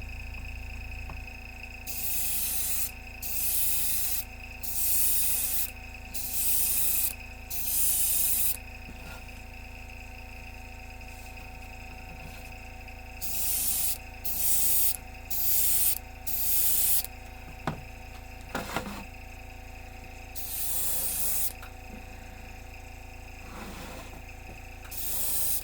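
Aerosol spray can coating a model mill building, repeated close bursts of hissing spray in two groups, each a second or so long, over a steady room hum.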